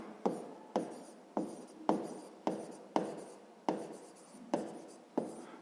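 A pen taps and strokes across paper while a math exercise is written down, making about nine quiet, evenly spaced scratchy marks heard close up with no talking.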